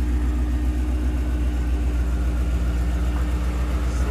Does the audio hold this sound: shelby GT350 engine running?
yes